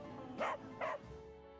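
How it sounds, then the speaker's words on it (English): Guard dog in Final Fantasy VII Remake Intermission DLC letting out two short, close barks about half a second apart over a quiet game background. "Got the place a guard dog."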